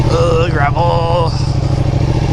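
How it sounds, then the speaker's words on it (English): A motorcycle engine drones loud and close while riding over gravel, the revs shifting in pitch as the bike moves along. "I hate riding through gravel."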